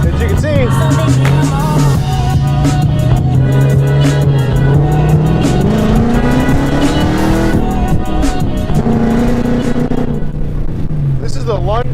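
A Ford Mustang 5.0 automatic (S197) with a Lund ghost cam tune is driven, its engine droning steadily and rising in pitch under acceleration, heard from inside the car with a continuous loud rumble throughout.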